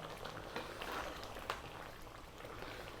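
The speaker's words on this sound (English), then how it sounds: "We're going to turn the heat down to a simmer now." A pot of lamb and vegetable stew simmering on lowered heat, a soft steady bubbling with occasional small pops, close and quiet throughout.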